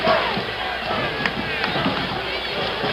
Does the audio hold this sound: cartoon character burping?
no